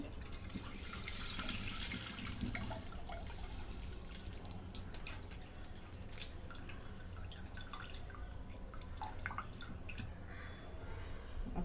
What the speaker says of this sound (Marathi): आता हे दूध ओतून घेते सर्व